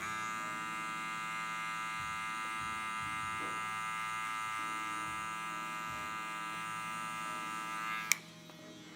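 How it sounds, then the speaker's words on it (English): Electric hair clippers buzz steadily and close up while cutting a low taper fade, with a constant motor whine lasting several seconds before a click as they switch off, and no talk. "start almost moving the clipper as if it's creating a ramp"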